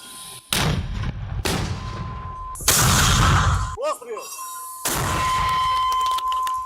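A mortar crew fires on a muddy front-line position, several loud booming blasts with long rumbling decay, heard close and alternating with soldiers' voices between the shots.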